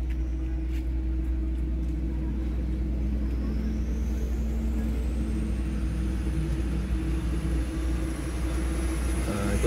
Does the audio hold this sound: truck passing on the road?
yes